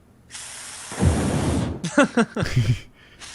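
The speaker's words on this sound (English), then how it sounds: "do the thing where you shoot gas in the" Aerosol gas sprayed from a can into the air, a steady broad hiss lasting over a second, close by, followed by people talking and laughing.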